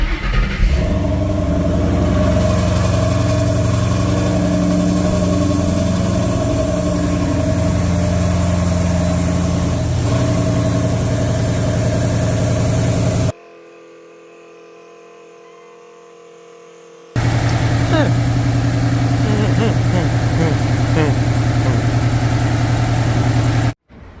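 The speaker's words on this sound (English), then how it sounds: "let's start the car" A car engine starts after a jump start and settles into a steady, loud idle that runs for a long stretch, briefly cut off partway through, then resumes idling.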